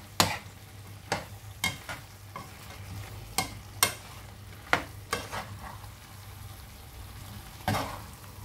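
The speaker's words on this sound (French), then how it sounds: "Je mets mes pommes de terre, toujours à feu doux bien sûr." Potatoes frying over low heat in a pan, with eggplant nearby, give a steady soft sizzle broken by a handful of sharp scraping stirs spaced a second or so apart. No one speaks.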